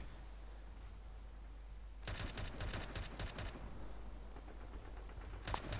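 Automatic gunfire in ARMA 3 rattles in rapid bursts over a low hum, with a long burst in the middle and another short burst at the end, fairly distant and moderately loud.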